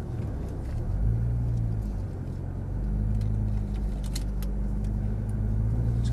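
A Nissan GT-R sports car drives off with a loud low engine rumble that swells as it pulls away, steady and close, with no talking.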